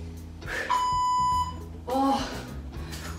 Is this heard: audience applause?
no